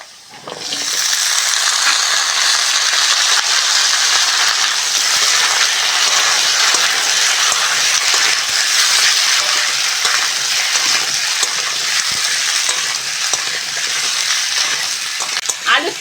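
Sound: potatoes and green tomatoes frying in a pan

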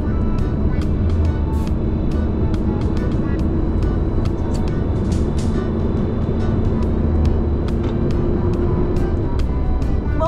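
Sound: vehicle engine brake

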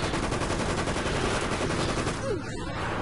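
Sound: grenade launcher firing in video game Resident Evil: ORC

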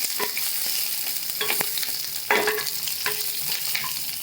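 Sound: sautéing cumin, green chilies and garlic in pan

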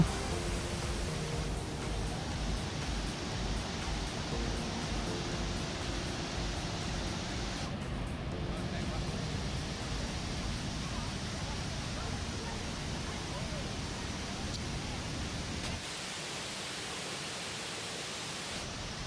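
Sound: first tier of a waterfall in Laos

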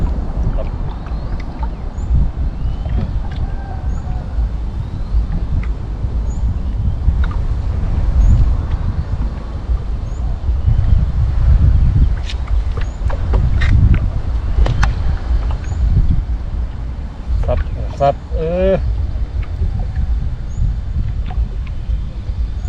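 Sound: wind blowing outdoors on a cold morning

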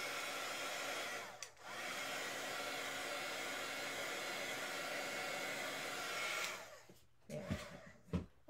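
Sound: hair dryer drying matte medium on paper edge

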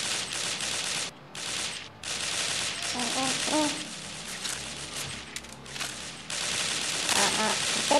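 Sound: M4A1 gunfire in a video game

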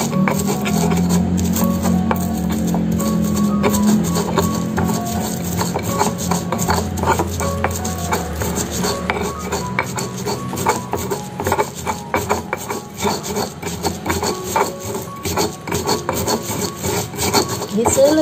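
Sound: grinding coriander, garlic and salt with mortar and pestle

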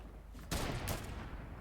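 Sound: gunfire in a video game

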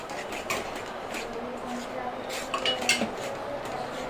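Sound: stirring coriander-cumin powder into gravy in a pan

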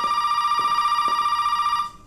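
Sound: telephone ringing in the video game Resident Evil 7

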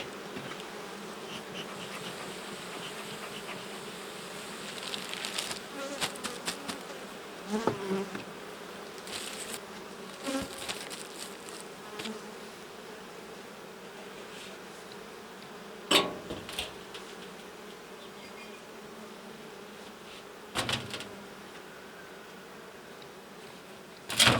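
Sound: honey bees buzzing at open beehive

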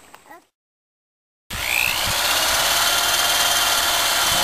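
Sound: power drill tapping maple tree for sugaring

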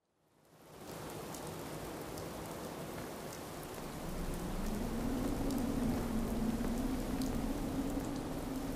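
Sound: rain falling, from the video game Fallout 4

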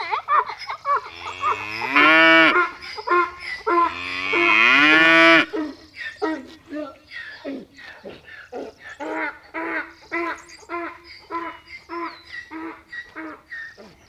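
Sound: cattle mooing

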